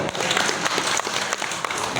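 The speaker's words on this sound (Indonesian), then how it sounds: "Tepuk tangan dulu dong." Brief applause from a gathering at a Maulid Nabi religious lecture, a short burst of scattered clapping with a few sharper individual claps standing out.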